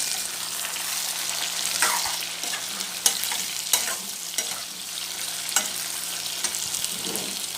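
Tomato and sweet pepper sizzle steadily in hot oil while a utensil scrapes and stirs the pan, with occasional sharp clacks over the constant frying hiss.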